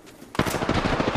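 Rapid automatic gunfire in Apex Legends erupts abruptly after a brief quiet, a loud, close burst of fast, evenly spaced shots.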